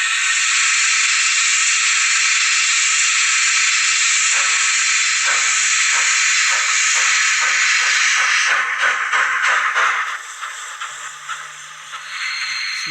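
Roco HO scale SNCF 150Y model steam locomotive with DCC sound: a steady loud steam hiss gives way to a run of rhythmic chuffs that pick up pace, with coasting beats and a low hum, no voices.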